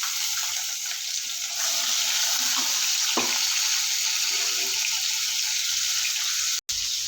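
Shrimp frying in a pan with dried chilies, giving a steady loud hiss of hot oil with an occasional stirring knock, heard close up with no talk.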